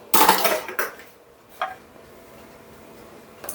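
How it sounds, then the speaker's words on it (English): An egg cracked onto a plate while baking date and wheaten scones: a sharp cluster of taps and a crack near the start, then a lone click and a faint knock later, in a quiet room with no talk. "So I actually want to crack it onto a plate."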